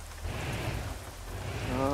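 Heavy rain in the Euro Truck Simulator 2 driving game, with a Ford F Max truck on a wet road, forming a steady dense wash that grows slightly louder near the end.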